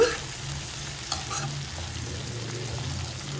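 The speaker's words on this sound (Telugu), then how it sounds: "ఉల్లిపాయలు కొంచెం ఫ్రై అయ్యాయి కదా. ఇప్పుడు టమాటాలు వేసుకుందాం." Onions and tomatoes fry in a pan with a steady, soft sizzle and crackle, plus a brief utensil clink, close by and with no talking.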